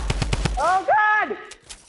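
Shotgun blasts in a Fortnite-style video game: four rapid, loud, sharp cracks in quick succession, followed by a wavering tonal game effect and two fainter pops, with a startled voice briefly heard.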